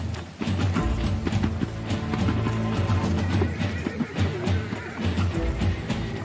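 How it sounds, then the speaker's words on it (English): Wild horses and stockmen's mounts gallop during the Brumby Run roundup in the mountains, with dense, rapid hoofbeats and occasional whinnies. The sound is loud and continuous and carries no speech. "Farmers and stockmen take to their steeds, head to the mountains, and round up wild horses."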